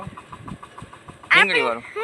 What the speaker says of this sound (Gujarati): ઓય આ ટ્રેક્ટર છે તો